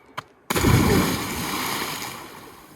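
Someone plunges into a cold Montana mountain lake, a brief faint knock followed by a loud, close splash that churns and slowly fades.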